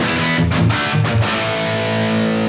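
A distorted electric guitar through a Suhr Ace amp with loud reverb sustains a thick, loud chord with a few re-struck notes early on, the tail ringing out.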